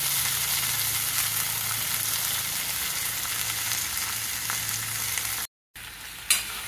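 Fenugreek leaves frying in hot oil with asafoetida for methi bhaji give a loud, steady, close sizzle that runs unbroken for several seconds, then cuts out briefly near the end before a small clack.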